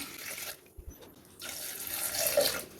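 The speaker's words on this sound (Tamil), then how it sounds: "இப்போ கொண்டக்கடலை வேகிறதுக்கு கொஞ்சமாக தண்ணி சேர்த்துக்கலாம்." Water is poured into a pressure cooker holding chickpeas for a chana gravy. There is a short splash, then a brief pause, then a rising, rushing pour close by.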